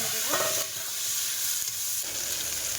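Onion, garlic, bay leaf and five-spice tempering sizzle in hot oil, a bright steady crackling fry that rises in intensity partway through, close and loud with no talk.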